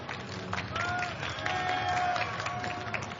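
Audience applause at a live podcast on the main stage of the eGames Expo, a moderate wash of crowd clapping with voices and cheering mixed in.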